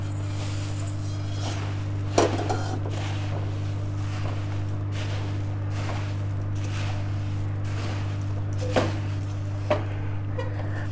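Puffed rice is stirred into jaggery syrup in a pan for chikki, with scattered scraping and rustling strokes at irregular intervals over a steady low hum of a kitchen burner or fan.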